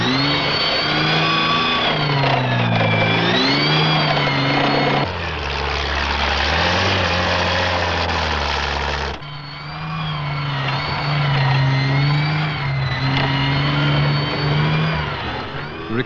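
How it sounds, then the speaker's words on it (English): Military tank running on experimental tracks over a tough test course, a loud continuous engine roar that rises and falls in pitch as it revs and accelerates, heavy and close throughout. "This tank has been in service for some time, but it's driving on experimental tracks."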